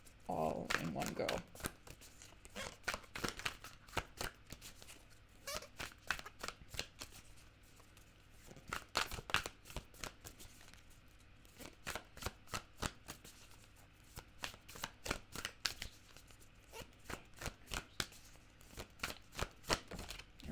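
Tarot cards are shuffled close by in a long run of rapid crisp riffles and slaps, continuing steadily for about twenty seconds while a voice talks quietly at times underneath.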